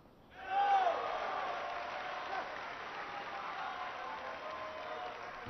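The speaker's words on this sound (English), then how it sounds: "friends, family, and of course just compatriots cheering him on here" Crowd at an Olympic men's singles badminton match between Indonesia and Spain cheers and applauds loudly, rising sharply then holding as a steady roar of claps and shouts for several seconds.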